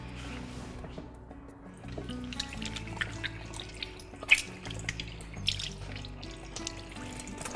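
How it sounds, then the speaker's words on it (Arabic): Hands being washed under a running kitchen tap, with steady close water flow, splashing and dripping throughout and a few louder splashes. "اغسل بس ايدي"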